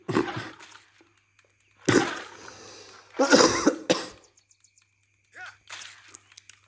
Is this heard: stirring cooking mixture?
no